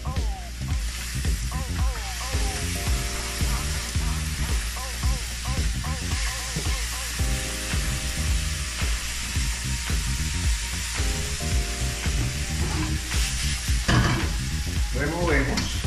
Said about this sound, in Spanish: En este momento vamos a incorporar un poco de salsa soya a nuestros vegetales.